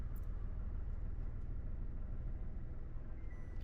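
A car creeping slowly forward as the driver gradually lets the clutch out, a low steady engine rumble close by with a faint hiss, no talking.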